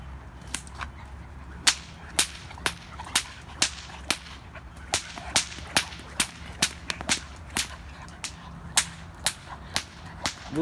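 A whip cracks again and again near a Rottweiler during bite training with a decoy, sharp loud snaps coming every half second or so in an uneven rhythm over a low background rumble.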